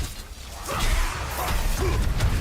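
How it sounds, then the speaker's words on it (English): Diablo IV barbarian gameplay vacuum effect pulling enemies together: a dense, steady whooshing rumble with mechanical clanks and thuds layered over heavy low-end noise, continuous and loud throughout. "There's that nice vacuum effect."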